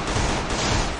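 A short, dense burst of rapid gunfire from a shooting video game, loud and close, crackling continuously for about a second with no voice over it.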